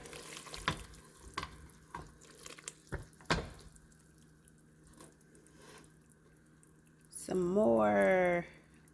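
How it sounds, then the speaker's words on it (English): More cooking oil poured into a pot while making jollof rice from leftovers: scattered light clinks and taps, then a brief, louder gurgling pour near the end. "So we just put some more oil in there"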